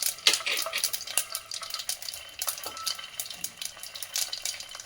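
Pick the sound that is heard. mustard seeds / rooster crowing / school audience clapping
mustard seeds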